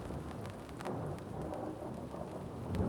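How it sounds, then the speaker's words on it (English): Thunder rumbles through a heavy rainstorm, a low rolling boom under a constant hiss of falling rain and splashing drops, with no voices. "Thunder's unique. It's the sound of the air hitting itself"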